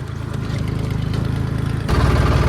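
A tractor engine runs steadily at a farm, a low throbbing drone with a rough mechanical rattle that grows slightly louder partway through, with no talking.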